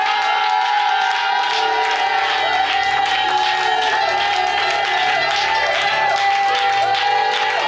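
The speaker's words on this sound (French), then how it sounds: "Est-ce que quelqu'un peut pousser le cri de joie en acclamant Jésus?" A church congregation at an outdoor teaching gathering in a banana plantation near Dabou cheers, whoops and shouts for joy, a loud continuous crowd roar with high ululating cries and clapping, sustained throughout.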